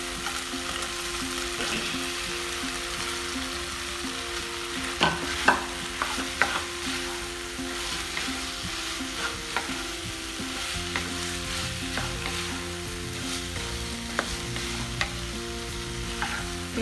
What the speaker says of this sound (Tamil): நல்லா மிக்ஸ் பண்ணிவிட்டு ஃப்ரை பண்ணி வச்சுக்கிறேன்